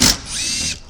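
A power tool whirs steadily for most of a second, close and fairly loud, as it backs out bumper bolts from the nose of a vehicle during a teardown, with no voices.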